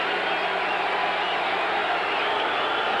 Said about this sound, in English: Crowd very much back in this game.